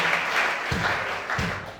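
Congregation clapping in a church service, a steady broadband wash of applause with a few louder bursts, continuous throughout and not masked by talk.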